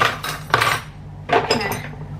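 A small spoon scraping and clinking against a bowl while handling seasoned meat, two bursts of close metallic scraping and tapping separated by a short pause.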